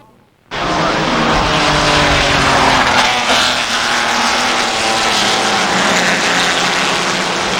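Historic race cars roar past at Mallory Park circuit, a loud, sustained engine blare that starts abruptly from near silence and stays close and dense throughout.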